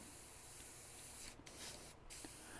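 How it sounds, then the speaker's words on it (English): An airbrush sprays paint with a steady, close hiss that runs throughout, briefly cutting out twice toward the end as the spray is stopped and restarted; no one speaks. "this brush does not want to spray this paint"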